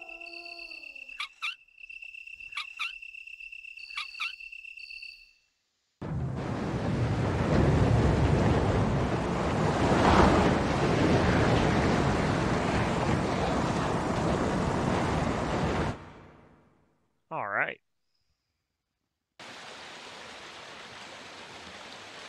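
Rushing water on a bridge in Resident Evil plays as a loud, steady broadband wash for about ten seconds, abruptly stopping, with short electronic game tones before and a brief sweep after.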